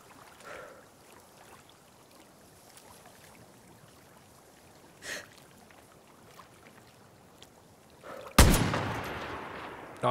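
In Far Cry New Dawn, a single sharp gunshot cracks out near the end, followed by a noisy burst and wash of sound, after quiet ambient background.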